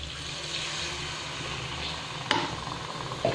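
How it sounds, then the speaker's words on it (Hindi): Water poured into a cooking pan while making dried green chickpea nimona, a steady broadband rushing splash at close range, with a couple of brief clinks near the end. "इसमें हम पानी डालेंगे"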